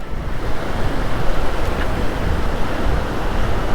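Shallow water in a mountain stream rushes in a steady, dense wash close by, with no voices.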